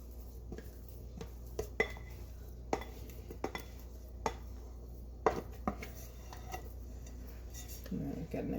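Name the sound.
bowl scraper scraping dough from bowl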